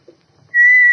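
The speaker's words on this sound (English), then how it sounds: "These little carved figures can whistle." Small carved figures whistle: a single clear, steady tone starts halfway through and holds, loud and pure, after a brief faint noise.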